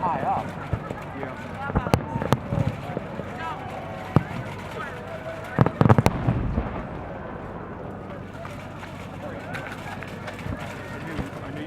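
Fireworks at the 2013 National Boy Scout Jamboree go off in scattered sharp bangs and booms, with a brief cluster near the middle, over constant crowd chatter and nearby voices.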